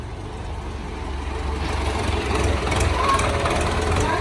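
A heavy MTZ-80 tractor engine idles with a low, rhythmic chugging throb that grows slightly louder toward the end, close by and with no speech, during sunflower loading.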